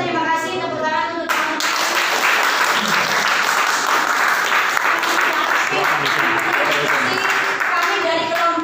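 Audience applause at a university class presentation on Islamic jurisprudence, a dense steady clatter of many hands filling the room from start to finish, with brief speech at the very beginning.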